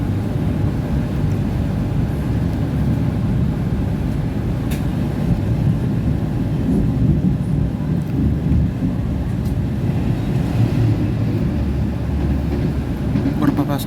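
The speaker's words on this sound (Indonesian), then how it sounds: "Berpapasan dengan kereta api Taksaka sebagai KAPA 3 tujuan Gambir." Inside a carriage of the Bangunkarta train at Cikarang station, a steady loud rumble of wheels and rushing air fills the cabin as the Taksaka train passes the other way, with a few faint sharp clicks.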